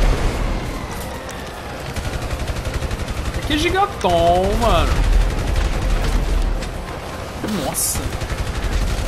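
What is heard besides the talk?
gunfire in a video game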